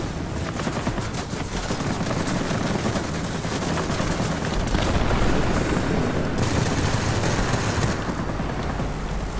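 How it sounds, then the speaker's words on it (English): Bomb explosion from a warplane in the World of Warplanes combat game, a dense, steady roar of blasts and rattling gunfire that stays loud and continuous throughout. "Dropped a bomb there."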